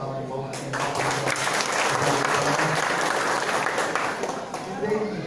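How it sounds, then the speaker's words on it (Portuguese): Audience at a city council event in Bahia, Brazil, giving a round of applause: a loud, continuous wash of clapping with voices mixed in underneath. "Mais outra salva de palmas aqui."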